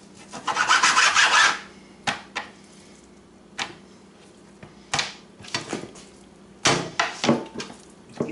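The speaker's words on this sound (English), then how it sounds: "you want to cut it evenly lengthwise, slice it right down the middle" A knife slicing lengthwise through a raw chicken breast to fillet it, a long scraping cut near at hand followed by several shorter rasping strokes and knocks on a cutting board, with no talking.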